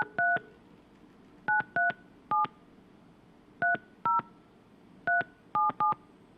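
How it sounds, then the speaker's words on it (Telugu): Touch-tone telephone keypad beeps dial a call, clear short tones in irregular groups of one to three separated by quiet gaps. "ఫోన్ కలుపుతూ ఉన్నారు బిగ్ టీవీకి సంబంధించినటువంటి టెక్నికల్ టీం"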